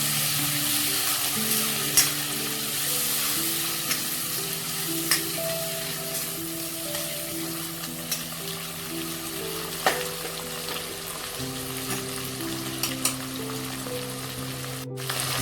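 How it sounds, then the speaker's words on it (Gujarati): Masala with tomatoes sizzles and fries steadily in a pan while being stirred, with occasional soft scraping clicks over a continuous close crackle, no talking. "મસાલાને આપણે થોડી વાર હલાવશું અને ચડવા દઈશું"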